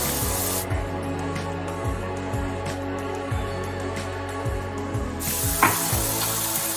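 Chili oil hits hot aromatics in a pot for shrimp tom yum soup, setting off a brief sizzle. Soft background music plays, and a louder, broader hiss swells near the end.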